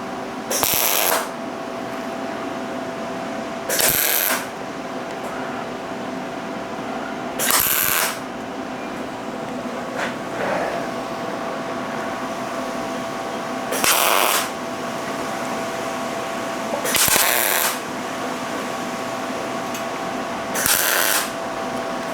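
Tack welding on a steel base: six short bursts of crackling welding arc at roughly three-second intervals, each lasting about a second, over a steady background hum, with no talking.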